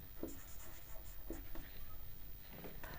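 Pen scratches across paper as a math problem is copied down, quiet close scribbling in short strokes and pauses, with no voice over it.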